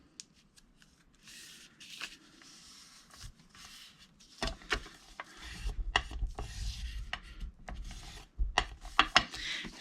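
A paper envelope flap is folded and creased by hand, giving dry rubbing and scraping sounds with sharp crinkles and presses that grow busier toward the end.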